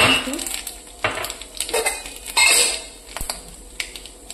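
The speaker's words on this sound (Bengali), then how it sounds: "শুকনো লঙ্কা, তেজপাতা আর কালো জিরে ফোড়ন দিয়ে" Dried chili, bay leaf and black cumin hit hot oil with a crackling sizzle. Loud spoon-against-pan clatter and stirring knocks come close by in uneven bursts.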